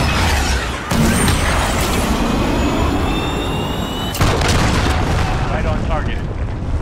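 Missile launch in Call of Duty: Modern Warfare, a loud sustained jet-like roar and rumble with high whistling tones, a sharp boom about four seconds in, while radio chatter continues.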